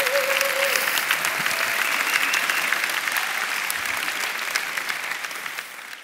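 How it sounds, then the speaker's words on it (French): Dense, steady applause fills the hall at an opening plenary of a 2018 conference, a sustained wash of many hands that holds evenly and tapers slightly at the end, with no voices over it. "on peut l'applaudir."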